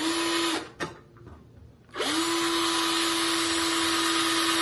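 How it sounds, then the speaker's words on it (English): A power drill boring a hole in a home repair job whines steadily at high speed, cuts out briefly with a short burst, then spins back up and runs loud and continuous to the end. "I drilled a hole."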